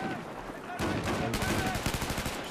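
Rapid automatic gunfire in Battlefield 4 rattles out in a loud, dense burst after a short lead-in, with individual shots closely spaced and near.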